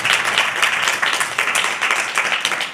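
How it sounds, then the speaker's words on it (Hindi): A congregation claps at a Sunday church service, a steady patter of many hands, fairly close and loud, swelling in a few waves over about three seconds. "जोरदार तालियां लगाएं निजात दहिंदा के लिए"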